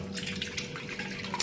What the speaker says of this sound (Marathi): त्यानुसार पाणी टाकायचं।